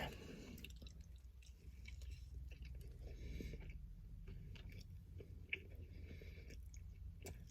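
Close, wet chewing of a McDonald's Big Mac, with soft smacking and squishy mouth sounds continuing steadily under a low background hum, and no talking.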